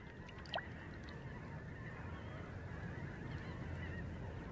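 A goose on the Atlantic coast gives a single brief honk near the start, then steady background noise of wind and surf runs on.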